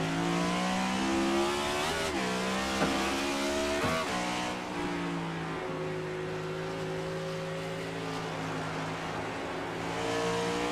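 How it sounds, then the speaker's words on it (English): Xfinity Series stock car lapping a track, its engine droning loud and close from the onboard position, pitch rising and dipping through shifts and corners with no talk. "Riding along, taking a lap with Alex."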